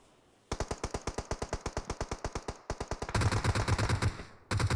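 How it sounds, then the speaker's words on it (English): Rapid bursts of automatic gunfire from several weapons in a PUBG Mobile pro match, steady repeated shots for a few seconds building into a denser, louder volley near the end, with no talk. "Everyone's popping shots at everyone."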